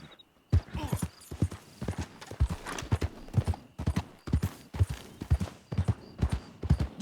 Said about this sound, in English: You hear those horses?